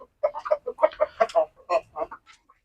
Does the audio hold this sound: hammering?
no